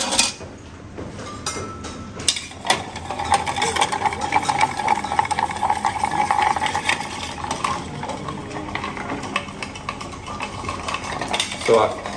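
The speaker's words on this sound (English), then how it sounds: "Let's give it a good stir." A porcini-infused cocktail stirred in a mixing glass, with a steady metallic clinking and scraping that runs for several seconds at moderate level, nearby and without talk.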